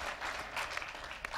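Quiet, distant applause from an audience gathered to hear about the Boston Marathon tragedy, a brief soft patter of many hands clapping.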